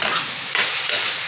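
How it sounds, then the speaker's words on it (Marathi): Ground bell pepper, chilli, ginger and garlic chutney paste sautéing on low gas, with a loud, close, continuous sizzle and two brief surges as it is stirred; no talking. "हे आपण जे वाटलेलं आहे ते सर्व ह्याच्यामध्ये घालून छान बारीक गॅसवर ह्याला परतून द्यायचे"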